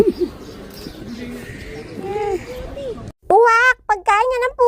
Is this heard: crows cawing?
yes